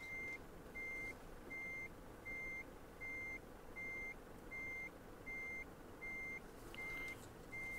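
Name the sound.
Volvo FH truck reversing beeps in Euro Truck Simulator 2 video game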